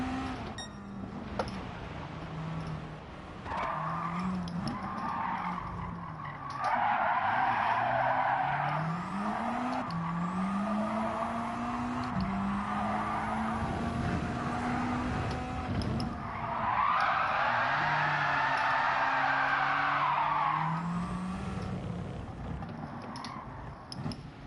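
Rally car driven hard in Gran Turismo 7, engine revving up and down through gear changes with long tire squeals and skids on loose corners, steady and close throughout.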